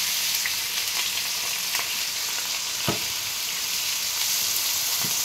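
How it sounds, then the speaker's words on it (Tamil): Chopped onions sauté in hot oil for a dhaba-style cauliflower masala, giving a steady, close sizzle and crackle throughout with a few sharper pops and stirring clicks. "இந்த வெங்காயம் வந்து நல்லா வதங்கணுங்க."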